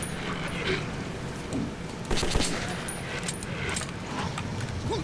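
Automatic and repeated gunfire from the post-apocalyptic shooter game Metro 2033 crackles in bursts over a low droning game soundtrack, with one louder cluster of shots midway.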